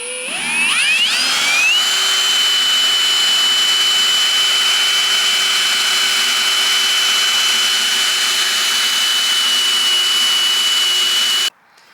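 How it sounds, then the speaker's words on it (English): A power drill bores holes for tire carrier bottom brackets on a vehicle's rear end, spinning up with a rising whine and then holding a loud, steady high-pitched grind for about ten seconds before stopping abruptly. "Now we're drilling."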